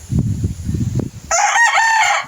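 A rooster crows loudly and close by, a long drawn-out call that follows a second or so of low rustling and handling noise.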